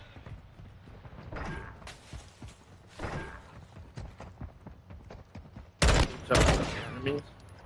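Loud, broadband bursts of assault rifle fire ring out in a video game, with several separate volleys and the heaviest pair near the end, over low background noise.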